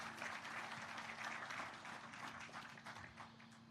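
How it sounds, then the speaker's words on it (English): An audience at an awards-style memorial event applauds in a continuous round of clapping, fairly even and moderately loud, with a faint steady hum beneath it. "Give him a round of applause."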